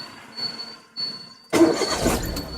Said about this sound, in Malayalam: വണ്ടി സ്റ്റാർട്ട് ചെയ്തു